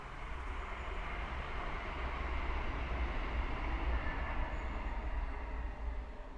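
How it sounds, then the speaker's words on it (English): A train rumbles past at close range, a steady loud roar of wheels on rails with deep low-end weight that holds throughout without any voices over it. "Oh, another train."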